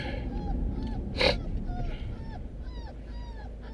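Kennel dogs whine and whimper in thin, high, rising cries, several in succession over a steady low background hum.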